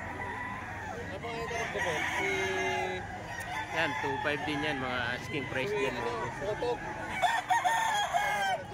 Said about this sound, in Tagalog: Daming manok ngayon mga bossing.